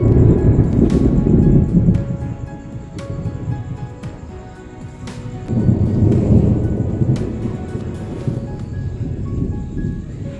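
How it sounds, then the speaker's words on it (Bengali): Heavy thunder rumbles outside before a rainstorm, deep rolling peals swelling and fading twice over ten seconds, with a faint patter of rain and rustling beneath. "বাইরে প্রচণ্ড মেঘের গর্জন শোনা যাচ্ছে"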